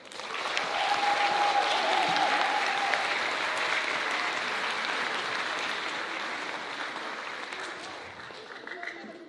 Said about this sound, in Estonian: Teeme veel ühe suure aplausi meie tänavaste esinejatele.